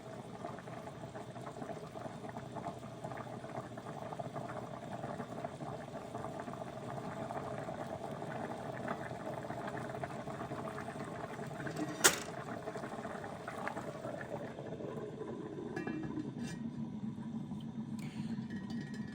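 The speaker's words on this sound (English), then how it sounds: "now I turn it down to a simmer and I cover it with the lid." Butternut soup simmering in a covered pot, a quiet continuous bubbling and burble that carries on steadily, with one sharp tap partway through and no voices.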